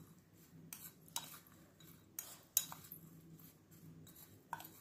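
A spoon mixes flour into bakery-style fruit cake batter in a bowl, with faint, scattered clinks and scrapes against the bowl in a quiet room.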